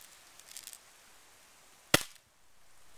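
A single sharp crack from an airsoft BB gun fired at a target, close and loud after a faint rustle, then near silence.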